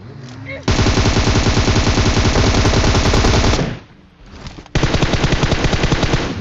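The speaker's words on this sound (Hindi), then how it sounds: "लेकिन तभी हमको कुछ गन शॉट्स की आवाज़ आती है" Rapid, continuous automatic gunfire rattles loudly for several seconds, pauses briefly, then a second long burst follows.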